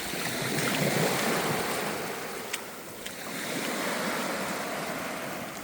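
Sea waves breaking on the beach at Fontanka in Odesa, with whitecaps: a steady moderate rush of surf that swells and eases slowly, with a couple of faint clicks and no speech.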